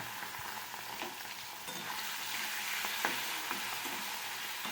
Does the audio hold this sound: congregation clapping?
no